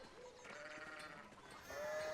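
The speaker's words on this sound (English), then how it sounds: "there are sheep blocking the path as well" Sheep in the medieval video game Pentiment, blocking a path, let out faint drawn-out bleats over a constant ambient game backdrop, with one clearer, rising bleat near the end.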